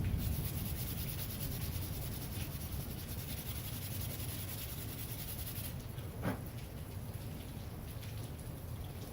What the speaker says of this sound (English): Light touch with sandpaper goes a long way.